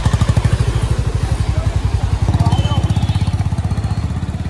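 A Honda H'ness motorcycle with a suspected loose chain idles and revs as it sets off on a trial run, its engine thumping in a loud, rapid, steady pulse close by.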